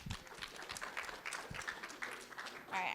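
Audience applause at a self-determination conference session, a dense patter of clapping from a crowd that stays steady and fairly loud, with a brief louder swell near the end.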